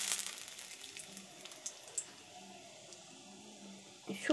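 A bay leaf dropped into hot oil in a kadai sizzles with a faint, hissing crackle that fades, with a few soft clicks and no talk.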